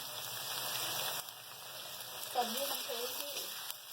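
Ginger, garlic and chillies fry in a pan for a spiced cauliflower and potato dish, giving a faint, steady sizzle with a few soft stirring knocks.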